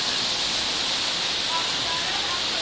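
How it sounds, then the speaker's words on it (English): Water sprays over a car during a wash on a rainy day, making a continuous, even rushing hiss that stays close and constant throughout. "The water is all over the car again."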